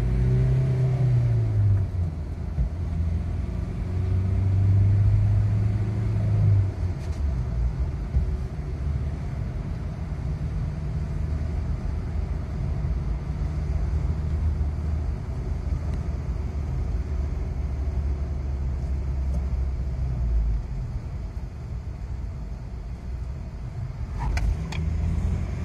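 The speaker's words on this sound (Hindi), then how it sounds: "ऑफ रोडिंग के लिए तो ये गाड़ी बहुत ही शाइन करता है" A Mahindra Scorpio SUV drives off-road, its engine rumbling low and steady from inside the cabin, with brief revs near the start and light knocks and rattles over the rough ground.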